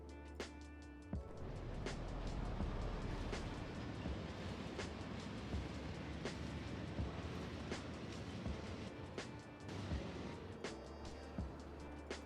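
Trains run in the Factorio video game, a steady rumbling roll with rhythmic clickety-clack wheel beats and sharp periodic clicks, heard at a moderate distance with no voices.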